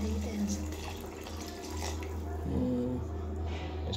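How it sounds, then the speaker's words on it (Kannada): Water pours steadily into a pot of mutton curry being cooked for a Sunday meal, a continuous splashing flow heard close up, with brief talk alongside. "ಈಗ ನಮಗೆ ನೀರು ಎಷ್ಟು ಬೇಕೋ ಅಷ್ಟು ಹಾಕೊಳ್ಳೋಣ"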